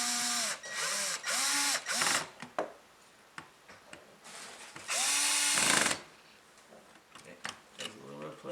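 Power drill driving screws while fitting under cabinet lighting, several whirring runs rising and falling in pitch, with a long sustained burst near the middle; a person talks in between runs.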